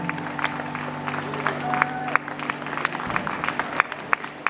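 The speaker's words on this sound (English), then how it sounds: "Big round of applause" Audience applause following a hula dance to Hawaiian music, scattered claps and crowd noise over lingering sustained tones, with sharp individual claps standing out near the end.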